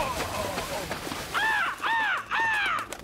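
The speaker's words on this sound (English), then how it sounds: "A tasty raven decided to join the fun." A raven gives three loud, harsh caws in quick succession, close by, following earlier calls mixed with talking and background noise.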